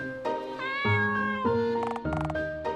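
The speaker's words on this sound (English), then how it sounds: "We have cats around here?" Cat meows from an RPG Maker MV dating sim video game, a short series of clear, bright game-audio meows in quick succession, some stretched and wavering, with no speech.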